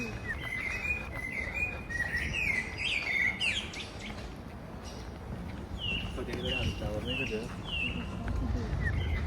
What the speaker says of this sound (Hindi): और ये देखिए परिंदों की आवाज़ें